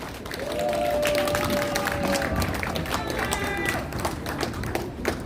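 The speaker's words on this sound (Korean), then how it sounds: "환영의 박수 부탁드립니다" Outdoor political rally crowd giving welcoming applause, a loud sustained burst of many hands clapping with shouts and voices mixed in, tapering toward the end.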